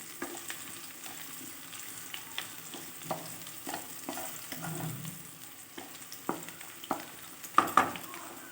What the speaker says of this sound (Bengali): পেঁয়াজ কুচিটাও দিয়ে দিয়েছি, এর মধ্যে সামান্য একটু লবণ আর হলুদ দিয়ে দিলাম, দিয়ে একটু ভেজে নেব।